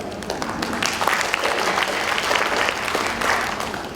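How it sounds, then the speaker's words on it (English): A crowd at an MMA forum applauds continuously, a full, lively round of clapping that swells slightly near the end. "I think we deserve a huge round of applause for that."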